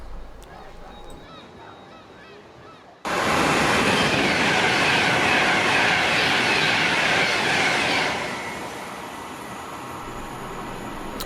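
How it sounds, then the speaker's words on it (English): A Pendolino high-speed train bursts past close by at Lockerbie with a sudden loud roar that holds steady for several seconds, then eases into a fading rumble. "a civil engineer's train waits for the Pendolino to clear the section, which won't take long at that speed."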